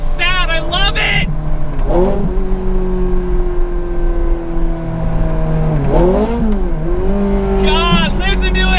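Ferrari F430 Scuderia with a six-speed manual gearbox, loud and close, its engine note rising through rapid gear changes in repeated climbing sweeps, hard and metallic, with brief high-pitched flares between shifts and a person speaking over it.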